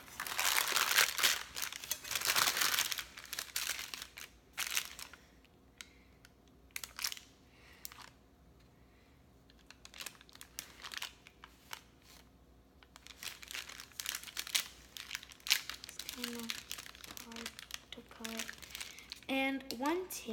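Parchment paper crinkles and crackles in close, irregular bursts while a pan of homemade fudge is cut, with faint talking in between.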